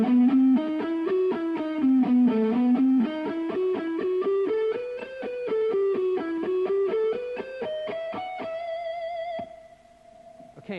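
Electric guitar, distorted, plays a slow ascending harmonic minor sequence as a patterned run of single picked notes, climbing steadily before settling on sustained held tones at the end, alone and fairly loud.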